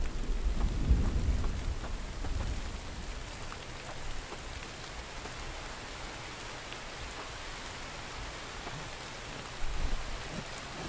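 A thunderstorm in the video game The Infected, with a deep thunder rumble near the start, then steady hissing rain and another faint rumble near the end, no voices.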